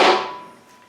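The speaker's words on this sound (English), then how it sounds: "I'm going to use a block of wood and gently tap the axle into the fork" A single sharp knock rings out as a block of wood taps a motorcycle front axle into the fork, loud and close, then decays quickly into a faint metallic ring.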